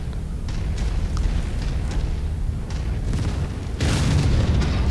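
A mech blows up in the MechWarrior 5 video game, a series of deep booming blasts with crackling debris rumbling over a continuous low roar, swelling into a bigger burst near the end.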